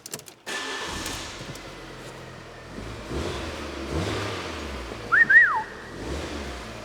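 A Fiat 500 with the 1.2 Fire engine runs at a steady idle after a cold start, a low, even hum heard close, with a short whistle-like squeal rising briefly near the end.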